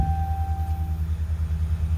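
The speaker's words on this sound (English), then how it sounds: "She's pretty quiet for a Hemi." A RAM truck's 5.7L Hemi V8 idles after starting, a steady low, throbbing rumble with an even pulsing rhythm. It sits close and moderately loud, with a faint tone fading out early on.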